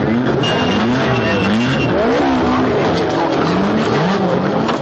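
Ferrari race cars pull onto the grid at a 1960s motor race, a dense, steady roar of several engines revving and shifting with rising and falling pitch, loud and continuous throughout with no clear talk.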